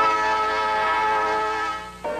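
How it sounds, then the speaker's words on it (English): A CSX Santa Claus special train rolling through the coal fields of Southwest Virginia in 1986 sounds a steady, sustained horn-like tone that holds for about two seconds, then cuts off and shifts abruptly, with no talking. "Once a year, a CSX train with old St. Nick chugs through Southwest Virginia, Kentucky, and Tennessee."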